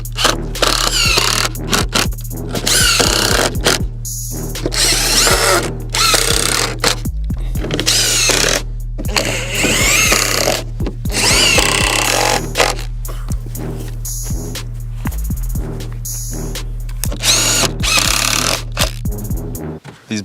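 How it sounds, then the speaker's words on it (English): Power drill driving screws into pallet wood braces for a compost bin, a series of close, loud whirring bursts separated by short pauses, with no talking. "I'm just going to throw some screws in there."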